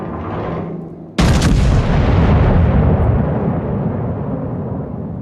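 A naval gun fires a shell in World of Warships, one sudden loud booming blast up close that rolls into a long, rumbling decay.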